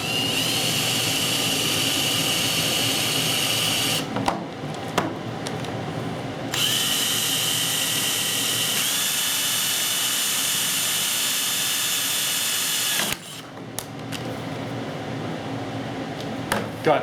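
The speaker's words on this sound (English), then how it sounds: "drill a hole over in here where it's still reinforced pretty good" A power drill whines loudly and continuously while drilling a hole into the body of a Chrysler Pacifica, stopping briefly twice before starting again.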